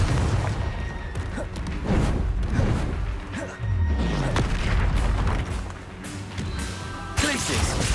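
Confringo blasting spells explode in a Hogwarts Legacy duel against a dark wizard, booming repeatedly amid crashes and game effects, with a player talking over the battle.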